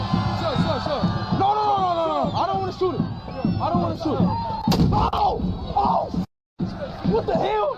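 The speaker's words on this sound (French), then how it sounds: "l'un d'eux a tiré avec l'arme juste à côté de son pied" A pump-action shotgun goes off right next to someone's foot, a single loud blast partway through, surrounded by excited shouting and a crowd of overlapping voices.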